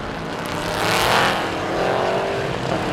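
Porsche Cayman GT4 Clubsport race cars at Sepang International Circuit, Malaysia, with a loud engine roar swelling to a peak as the cars pass close by, then easing off.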